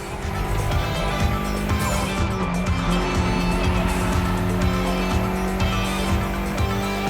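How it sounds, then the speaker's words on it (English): Mitsubishi inline-four with 280 horsepower being driven in The Crew Motorfest gymkhana event, a loud, steady engine drone with throbbing low rumble and a tire squeal, continuous without talk. "Mitsubishi gave us a nice inline four-cylinder with already 280 horsepower"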